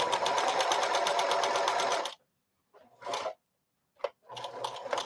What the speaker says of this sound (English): Let's see if I can't get this bobbin to last just for a couple more stitches